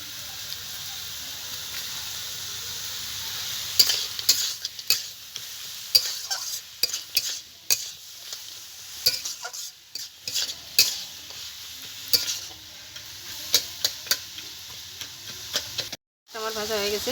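Greens for the Diwali Chouddas fourteen-greens dish being stirred in a pan, with nuts, bori, cashews, raisins and a little sugar added, a steady sizzle under repeated scraping strokes and clinks of the spoon against the pan.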